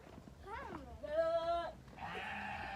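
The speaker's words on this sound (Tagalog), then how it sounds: "Kanina pa yung nag-iingay yung goat na yan." A goat on a mountainside bleats in a loud wavering cry, preceded by a shorter call, with voices talking around it.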